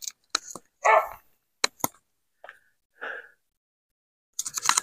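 Several dogs barking indoors in short, separate sharp barks and yips, spaced irregularly with a burst of overlapping barks at the end, close and fairly loud with no talking.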